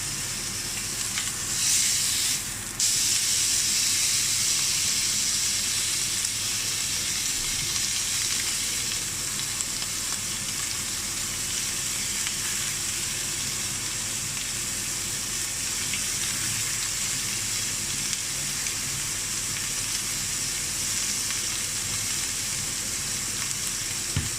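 Chateaubriand beef sizzling loudly in a hot ridged pan as it is turned and basted, a constant dense frying hiss throughout, close and steady with no talking.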